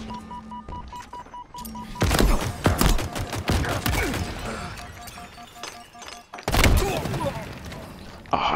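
Pistol gunfire in the Halo Infinite video game: bursts of sharp shots and impacts, loud and close, with a dense flurry near the middle and another burst toward the end, mixed with game effects.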